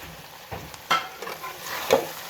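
Chopped medium tomatoes go into frying chicken keema, giving a few wet thuds and scraping stirs over a steady soft sizzle, close up with no talking.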